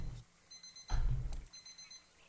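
An alarm clock rings in the VR horror game Stifled, a thin high electronic beeping in short repeated bursts, faint against a low rumbling bump in the middle.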